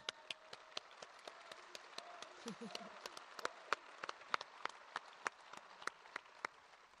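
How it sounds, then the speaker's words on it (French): Sparse applause from a small conference audience, individual claps sounding as distinct sharp cracks in an irregular rhythm, with a faint voice briefly underneath. "je pense qu'on peut l'applaudir"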